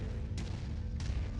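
Autocannon fire from a mech in MechWarrior 5: Mercenaries, two sharp bursts about half a second apart cutting over a dense, continuous low rumble of battle noise.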